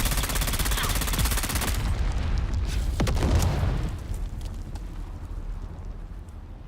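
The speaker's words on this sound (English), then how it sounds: "Throwing grenade." A grenade blast in a video game booms loud and close amid rattling gunfire, the roar swelling around the middle and then trailing off into a rumbling decay.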